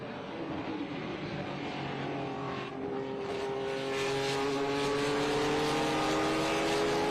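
Air-cooled Porsche race cars lapping a racing circuit during a Governor's Cup race, a steady distant engine drone that swells and shifts pitch as the cars pass, with no voices over it.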